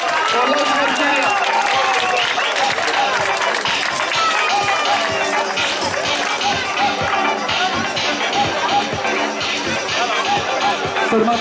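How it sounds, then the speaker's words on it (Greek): Loud, sustained crowd applause and cheering at the awards ceremony of a trail running race near Ioannina, dense clapping filling the whole stretch with voices mixed through it. "Ένα μεγάλο χειροκρότημα!"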